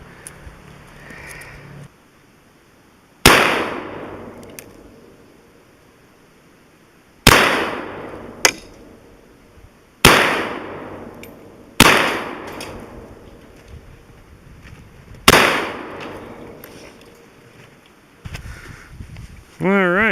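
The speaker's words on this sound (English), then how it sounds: "the next series of shots will be from the SKS" Five sharp, loud rifle shots from a Chinese surplus SKS firing 7.62x39 steel-core rounds crack out a few seconds apart, each ringing off into a short decay, with quiet pauses between.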